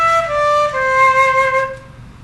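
Four connected notes on a flute descend step by step in a smooth legato phrase, the last one fading away, played close and solo without speech.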